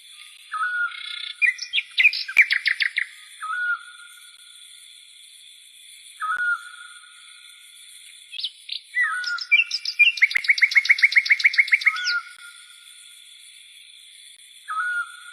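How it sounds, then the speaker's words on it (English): Several birds chirp and trill outdoors, with repeated bursts of rapid tweets, short whistled calls and a faint high steady tone behind them, clear and fairly close. "We don't feed the birds over here."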